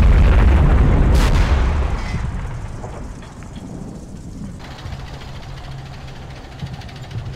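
A tank fires from a hill in a war game, a heavy, loud booming blast with a long rumbling tail that fades into low background noise, with no talking.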